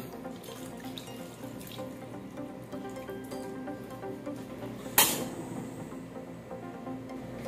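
Water pours from a tap into a cooking pot at a kitchen sink, a continuous close splashing rush with a brief louder clatter partway through.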